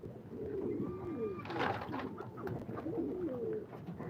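Pigeons coo in soft, rolling repeated calls at close range, with a brief burst of other bird chatter partway through and a steady low background hum.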